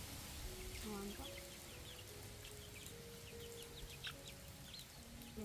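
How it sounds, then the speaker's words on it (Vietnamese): Chickens clucking around a rural Vietnamese home yard, scattered short calls at moderate distance over a quiet background hiss. "Nhìn mấy con gà nhanh nhẹn thật đấy."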